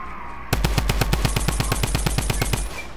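Rapid automatic gunfire in the video game Fortnite bursts in after a brief quiet moment, with about twenty loud, evenly spaced shots in a fast rhythm before it stops, and no talking.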